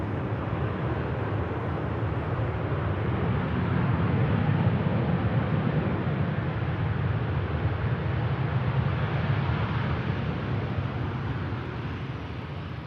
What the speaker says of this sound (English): There's one Ryanair arrives.